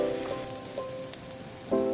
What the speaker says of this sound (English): Then add in the garlic and the ginger. Stir fry.